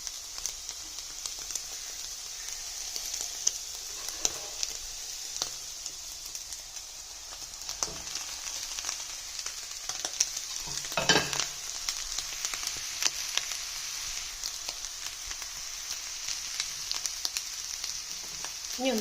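Cooked rice tossed with vegetables in a hot pan, a constant bright frying sizzle with occasional scraping and stirring clatters, close and steady throughout with no talking.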